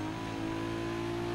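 A stock-engine Nissan Skyline in the racing game Need for Speed Underground 2 holds a steady, droning rev at moderate loudness, with a constant tonal whine and no speech.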